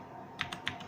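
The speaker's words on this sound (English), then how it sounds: "I will use a keyboard here." Three crisp keystrokes on a computer keyboard, evenly spaced and close up, with no talking over them.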